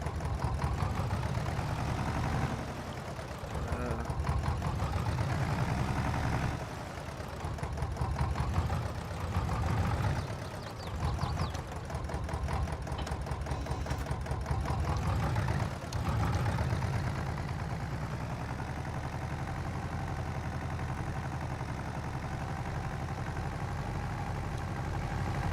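A John Deere 710 tractor engine straining under a heavy trailer load in Farming Simulator 22: a continuous low droning labour with uneven pulses and dips, fairly faint and steady throughout.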